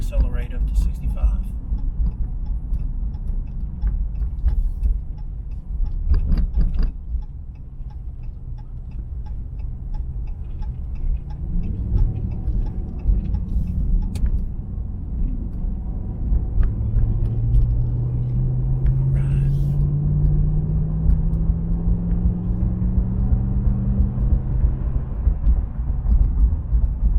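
A RAM 1500 half-ton truck towing an RV trailer accelerates up to interstate speed, its engine a steady low rumble with a rising drone as it pulls, heard close from inside the cab with constant road noise and no talk.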